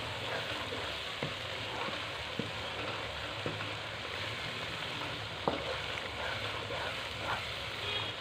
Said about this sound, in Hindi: मसाला हमारा भून चुका है अच्छी तरह।